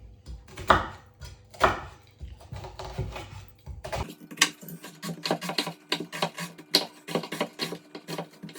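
A knife finely chops an onion on a cutting board, first with a few heavier strokes, then with a rapid, steady run of close, crisp taps.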